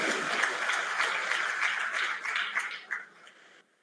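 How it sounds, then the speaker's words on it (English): Dense, sustained applause from an engineering-college audience at an orientation programme, a steady wash of many hands clapping that tapers off toward the end and stops. "Please, round of applause."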